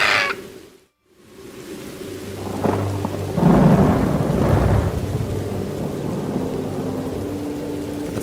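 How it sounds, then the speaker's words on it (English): A deep roll of thunder rumbles through steady, heavy rain pouring down, with the downpour continuing loudly throughout. "It's a gully washer."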